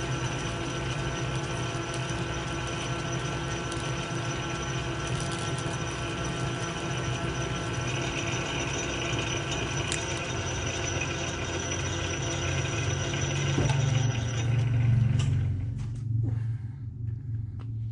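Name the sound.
machine cutting a steel shaft to length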